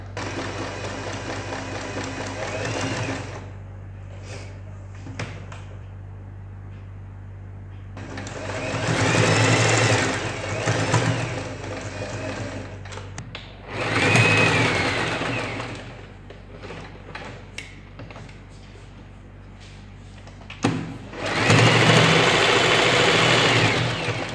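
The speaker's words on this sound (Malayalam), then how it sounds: "ഇനി നമ്മളുടെ ഈ മാർക്ക് ചെയ്തതനുസരിച്ച് ഈ വള്ളി സ്റ്റിച്ച് ചെയ്യാൻ പോവാണ്." Sewing machine stitching a cord onto a cloth bag, with several whirring runs of needle motor separated by quieter pauses, the bursts loud and close and getting longer toward the end.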